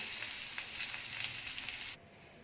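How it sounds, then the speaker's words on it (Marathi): Pieces of pala fish sizzle steadily in hot oil in a pan, a dense bright crackle with small pops that cuts off abruptly near the end. "पुन्हा ही मच्छी आहे ती सुद्धा मी फ्राय करून घेते"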